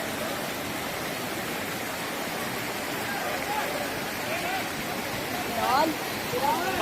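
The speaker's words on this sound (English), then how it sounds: "the water's flowing all the way from the top and it's going all the way down there" Umbrella Waterfall in Pakistan pours down from high above, a steady, even roar of rushing water that fills the whole stretch, with faint voices briefly audible near the end.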